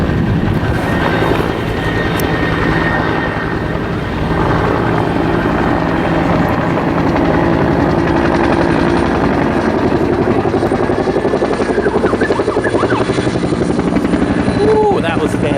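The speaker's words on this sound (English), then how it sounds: "I'm gonna cut it down to show the helicopter drops and all that." A helicopter making water drops on a fire near a house thumps loudly and steadily throughout, a heavy pulsing rotor drone that stays close the whole time.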